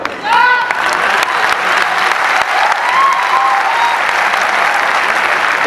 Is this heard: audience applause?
yes